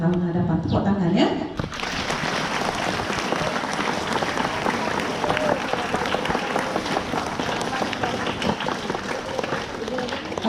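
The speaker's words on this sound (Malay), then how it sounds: "Tepuk tangan ya." Sustained applause fills a school hall at the closing ceremony of a national month celebration, many hands clapping steadily after a brief voice at the start, loud and dense throughout.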